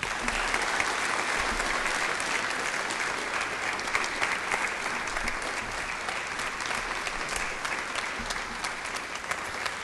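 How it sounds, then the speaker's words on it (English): Applause from an audience at a commemoration event for the desegregation of Oak Ridge schools, dense sustained clapping throughout with a faint crowd murmur. "please give another round of applause to our Scarborough 85 who are here"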